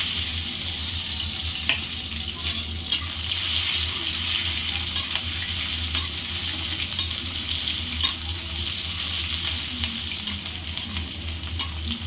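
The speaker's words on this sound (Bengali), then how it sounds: "পেঁয়াজটা লাল লাল করে ভেজে নেবো" Chopped onions sizzle steadily in hot oil, a constant crackling hiss punctuated by occasional scrapes and clicks of stirring, with no talking.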